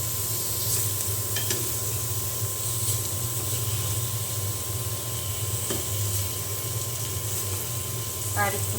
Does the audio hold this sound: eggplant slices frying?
yes